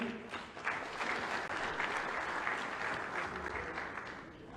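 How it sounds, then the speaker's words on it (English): Steady applause from an audience welcoming a performer at a talk event, a dense, continuous wash of clapping that holds evenly for several seconds at moderate distance, with no voices over it. "Ladies and gentlemen, please let's give him a round of applause."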